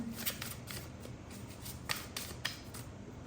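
Tarot cards are shuffled and drawn in quick, crisp riffles and flicks, several sharp snaps standing out close by over a low background hum.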